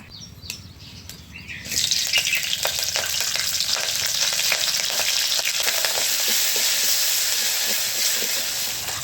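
Hot oil on a wood-fired stove erupts into a loud, dense sizzle as the mustard seed tempering (phodni) goes in after a quieter start, then holds a steady hiss with faint stirring.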